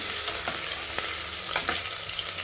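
Crushed garlic cloves and sliced spring onions hit hot oil with bloomed cumin, producing a dense, steady, close sizzle with a few light stirring taps.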